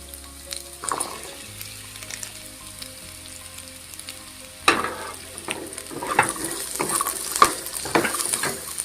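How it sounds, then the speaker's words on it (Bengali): Diced potatoes and carrots go into hot mustard oil in a kadai. After a few quiet seconds with light clinks, a sudden loud sizzle bursts out, followed by crackling frying and repeated scraping stirs close by. "তেলটা গরম হয়ে গেলে এর মধ্যে দিয়ে দেব ডুমো ডুমো করে কেটে রাখা আলু ও গাজর।"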